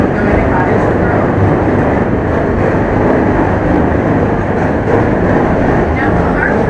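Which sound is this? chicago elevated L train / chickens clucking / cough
chicago elevated L train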